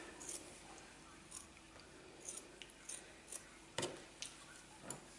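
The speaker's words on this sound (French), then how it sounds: "on commence par couper la chaussette sur le côté vert ici" Scissors snip through a sock lengthwise in a series of soft, close, separate cuts spaced about a second apart, faint against a quiet room with no talking.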